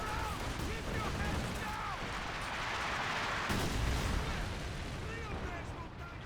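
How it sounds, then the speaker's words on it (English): Mortar fire and explosions in the Company of Heroes 2 real-time strategy game, a continuous dense barrage of booming blasts and crackling gunfire throughout, with faint talk underneath. "Looks like the mortar's on fire once again."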